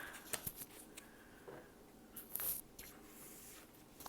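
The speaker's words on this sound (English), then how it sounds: "I'm just pulling some cards for you" Tarot cards are pulled from a deck and flicked down in a few faint, quick rustles and snaps, close but quiet, with no talking.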